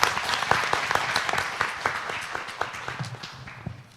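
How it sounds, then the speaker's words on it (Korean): A conference audience at an agricultural policy forum bursts into applause, many hands clapping in a dense, uneven patter that slowly thins and fades toward the end. "여러분 오늘 발표자와 토론자들께도 박수 한번 보내주십시오."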